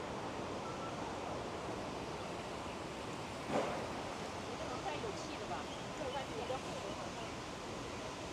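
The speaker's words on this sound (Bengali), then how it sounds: "আজকে সাগর পারে একটা ঝিরঝির বাতাস আসতেছে" A breeze blows at a seashore park, a steady broad rushing wash of wind and surf with a few faint bumps, moderately quiet and continuous.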